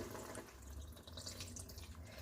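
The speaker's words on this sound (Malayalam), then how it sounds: "അതുകൊണ്ട് തന്നെ ഞാൻ കുറച്ചും കൂടി വെള്ളം ഒഴിച്ചു കൊടുക്കുന്നുണ്ട്" More water is poured into a pot of noodles being cooked into soup, a steady, continuous splashing flow heard close up with no talk.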